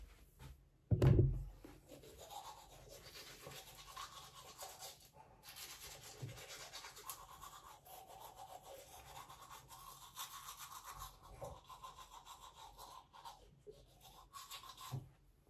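A toothbrush scrubs teeth in a quiet room, a soft continuous brushing rasp after a sharp knock near the start, fairly close and faint.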